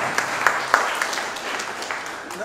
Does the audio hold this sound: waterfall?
no